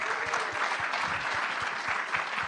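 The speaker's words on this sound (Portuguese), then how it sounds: "Uma salva de palmas para elas." An audience at a wellness business conference claps, a brief, steady round of many hands with individual claps audible close by, no voices over it.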